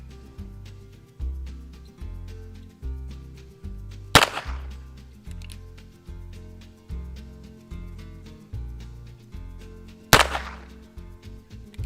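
Two sharp, loud reports from a Heritage Rough Rider revolver fired at a golf ball outdoors, spaced about six seconds apart, each cutting over a steady rhythmic musical bed.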